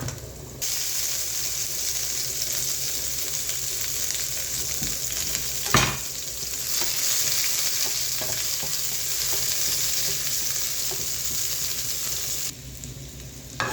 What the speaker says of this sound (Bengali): নাড়াচাড়া দিয়ে রেখে দেব।